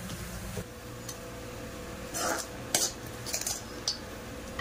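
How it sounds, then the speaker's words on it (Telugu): A spoon scrapes and clinks against a pan while murmura upma, garnished with coriander, is stirred, giving several sharp metallic taps and short scraping strokes over a quiet background. "వేసి కొంచెం అటు ఇటు కలుపుకుందాం."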